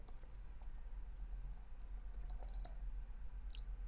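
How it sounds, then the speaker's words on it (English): Typing on a computer keyboard while writing code, a quick run of light clicking keystrokes, close and quiet, with no one talking. "I'm just typing the echo"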